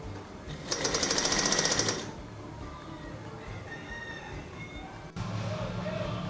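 A sewing machine stitches a flare gown in a short, fast close mechanical whir lasting about a second, then stops, leaving quiet room noise.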